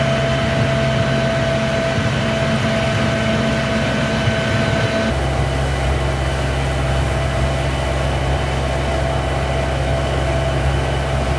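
A steady cooling fan on an electric trimaran whirs with a constant hum and broadband air noise, shifting slightly in tone partway through, no voices.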